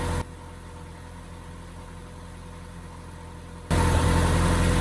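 A 1980 Toyota Corolla with a 3SGE engine idles with a steady, even hum, broken by abrupt cuts where the sound jumps to a louder level.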